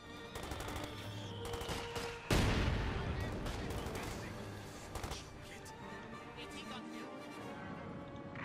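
Rifle and machine gun fire crackles in a Company of Heroes 2 battle, with assault rifles, semi-automatics and a light machine gun trading a sharp burst and repeated shots while a commentator talks over the action.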